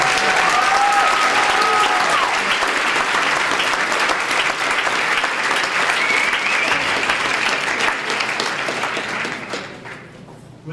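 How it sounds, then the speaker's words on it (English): A large conference audience at a Yale Black Solidarity gathering breaks into full, sustained applause that holds steady for nearly ten seconds, with some crowd cheering mixed in, before tapering off. "let's give another round of applause for BSC"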